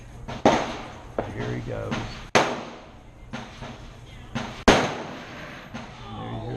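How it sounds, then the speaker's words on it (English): Gunfire from other shooters at a gun range: three or four sharp, loud reports spaced a couple of seconds apart, with someone talking between and over them. "And there you hear some other people shooting."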